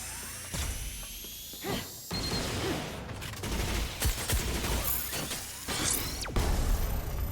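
Gunfire and mechanical clatter in the shooter video game Scar-Lead Salvation, with bursts of rapid shots, ratcheting clanks and sharp impacts over a continuous game soundscape.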